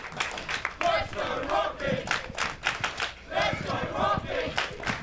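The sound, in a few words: wrestling crowd cheering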